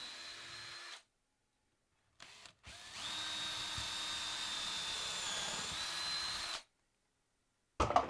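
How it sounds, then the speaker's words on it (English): A power drill whirs steadily for a few seconds, drilling countersunk holes into wood, preceded by a brief short burst, with quiet pauses between and a faint click at the end. "So while I'm in a drilling mood, I'm going to put some countersunk holes in this"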